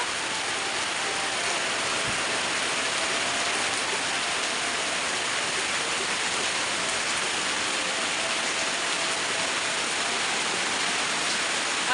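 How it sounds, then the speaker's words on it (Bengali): Steady rain falls outside a home, a dense, even wash of drops hitting surfaces that holds at a constant, fairly loud level throughout with no voices. "বৃষ্টি হচ্ছে"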